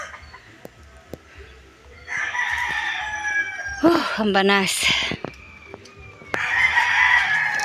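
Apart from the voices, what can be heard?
chickens clucking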